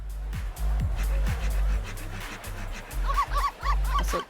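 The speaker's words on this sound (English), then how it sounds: "That's the Ocarina of Time dog noise." Cartoon dog barking with the Ocarina of Time style dog noise, a few short yipping barks over a steady background score, then a quick run of bright squeaky yips near the end.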